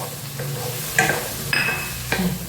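A spoon stirs capsicum rice with cumin and pepper powder in a pan, with scraping strokes over a low sizzle and three sharper clinks against the pan.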